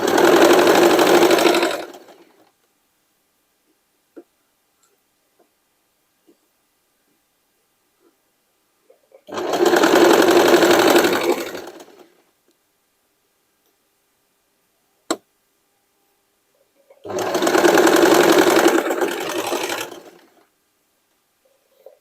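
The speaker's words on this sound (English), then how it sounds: "When you stitch thick fabrics with a hobby machine, believe me, it's a challenge." A hobby sewing machine stitches thick denim for a hooded jacket in three loud bursts of a couple of seconds each, separated by quiet pauses with a single sharp click between the second and third runs.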